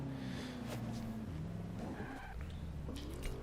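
A car drifts in the Forza Horizon 2 racing game, engine tones rising and falling with shifts while tires squeal and skid in short bursts, fairly quiet overall.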